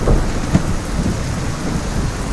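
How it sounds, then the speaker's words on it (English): Heavy rain pours steadily on surfaces in Istanbul, a loud dense hiss with a low thunder rumble and a sharp crack near the start, no voices. "It's raining"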